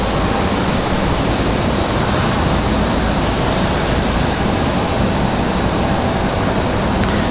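A Republic Airways airliner arriving from LaGuardia at Raleigh-Durham airport gives a steady, moderately loud jet engine rumble that continues unbroken, with no voices.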